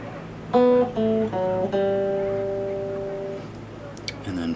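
Electric guitar picking a short bridge melody from Silverchair's "Suicidal Dream", a handful of clear single notes stepping up then ringing out and decaying alone, close and moderately loud.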